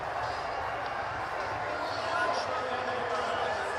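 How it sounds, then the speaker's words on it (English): A stadium crowd roars steadily at the Major League Cricket championship final, a broad, continuous wash of cheering with a commentator talking over it. "Listen to this crowd roar."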